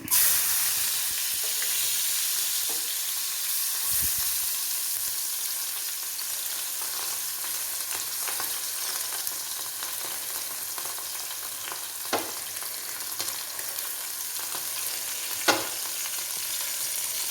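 Chopped ginger and garlic fry quietly in oil, a soft continuous sizzle with a few occasional sharper pops and clicks.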